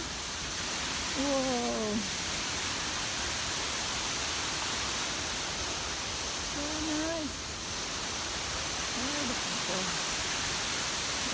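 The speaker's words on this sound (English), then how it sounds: "This is the first waterfall that I see, the Bumana waterfall." Steady broadband rush of the small Bumana waterfall in Ubud, Bali, filling the whole scene at an even, close level, with a person briefly exclaiming over it.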